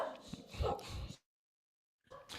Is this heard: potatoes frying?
no